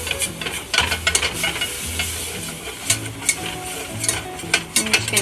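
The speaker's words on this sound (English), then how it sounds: "I'm just gonna keep whisking" Whisk scraping and stirring as liquid is worked into a butter-flour roux in a pan, with a steady rhythmic clatter of strokes and a faint sizzle beneath.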